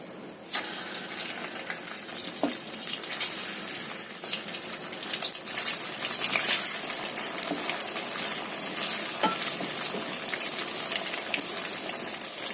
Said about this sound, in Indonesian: Dan kita goreng tahunya yang sudah kita olesin dengan telur tadi.